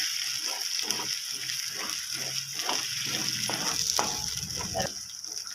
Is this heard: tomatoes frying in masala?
yes